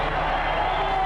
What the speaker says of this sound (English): The shot set the crowd into a frenzy.